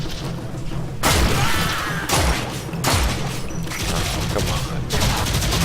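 A one-handed lever-action pistol fires in the video game Warframe, several heavy booming shots roughly a second apart, each with a long noisy tail, as a voice says a word.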